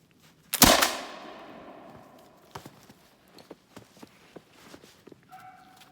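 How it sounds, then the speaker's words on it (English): A flintlock shotgun fires once, close and loud, with a sharp dull boom that decays over about a second, followed by faint scattered clicks and knocks. "I noticed it when the gun went off"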